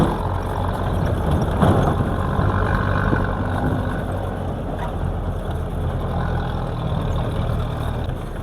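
A four-wheel-drive jeep engine drones steadily and loudly throughout, with a low rumble and rattling noise from driving over a rough, rain-soaked track near Islamkot, Pakistan.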